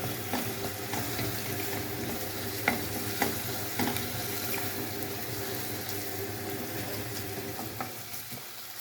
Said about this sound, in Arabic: انا حطيت هنا بصلتين عليهم شويه زيت، بصل احمر علشان يبقى مسكر